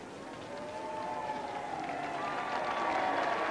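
A crowd of well-wishers at Trooping the Colour for the Queen's official birthday in 1985, a broad sustained roar of cheering that swells and grows louder, heard from a distance with tonal band music woven through.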